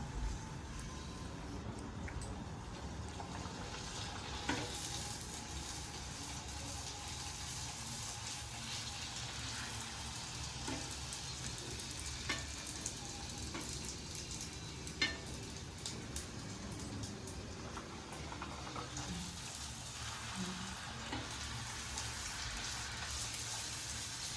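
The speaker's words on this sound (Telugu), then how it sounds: "ఇలాగే చేసుకొని పెట్టుకున్న ప్రతి పూరీలు రోస్ట్ చేసుకుంటాం." Puris for pani puri fry in hot oil in a pan, giving a continuous soft sizzle and crackle with scattered small pops, fairly faint and with no voices.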